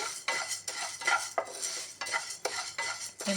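Moong dal being dry-roasted without oil in a pan, stirred steadily with a utensil that scrapes and rattles the grains against the metal in close, rhythmic strokes, and no one speaks.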